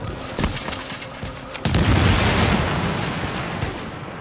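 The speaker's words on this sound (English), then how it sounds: "Man, that was a grenade too." A grenade blows up in The Division during a Dark Zone fight: a heavy boom lands partway through and rolls out into a long, fading rumble after some earlier smaller pops.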